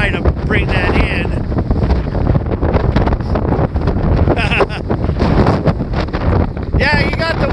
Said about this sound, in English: Wind AF today.